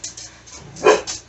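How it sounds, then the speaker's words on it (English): A few short dog barks and yips nearby, one louder bark standing out near the end. "Excuse the dogs, they see a squirrel outside."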